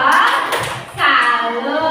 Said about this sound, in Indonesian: Karena betul kita berikan tepuk jempol